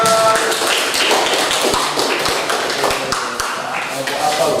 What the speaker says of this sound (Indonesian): silakan dulu tepuk tangan untuk kelompok apel